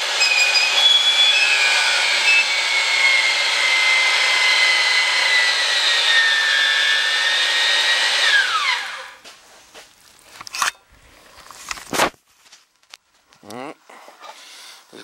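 Pipe threading machine running steadily on black pipe, a loud continuous high-pitched whine for about eight seconds, then stopping and giving way to scattered clanks and handling noises.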